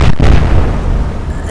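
A heavy naval shell striking an enemy cruiser in the naval warfare game Atlantic Fleet, heard as a single loud, deep boom that rolls on as a rumbling tail.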